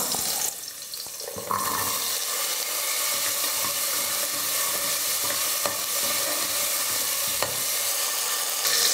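Peeled whole small onions, about 150 grams, fry with garlic in a pan for sambar rice, a steady loud sizzle running throughout with occasional stirring clinks and no talking.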